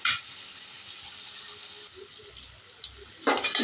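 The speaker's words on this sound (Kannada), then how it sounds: "ನೋಡಿ, ಈಗ ಈರುಳ್ಳಿ ಸ್ವಲ್ಪ ಫ್ರೈ ಆಗಿದೆ" Onions frying in a pan for hotel-style khara bath give a steady, close, broad sizzle with a brief stirring lull midway and a louder burst of spitting near the end. No voices.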